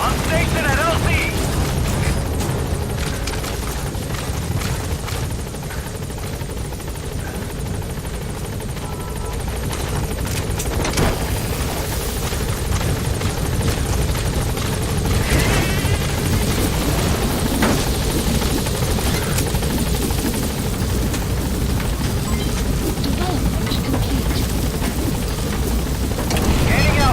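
The B-Quad helicopter in MGSV arrives at a landing zone with a loud, continuous rotor and engine roar that holds steady throughout, with rushing wind-like noise mixed in.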